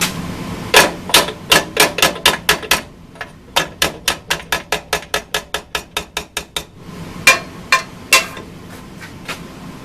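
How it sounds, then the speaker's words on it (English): A hammer strikes a Shopsmith bandsaw guide unit in close, sharp metallic taps: a quick run of about a dozen, a brief pause, another long even series, then a few scattered final blows. "Let me get a hammer and tap on it and see if it'll just slide out."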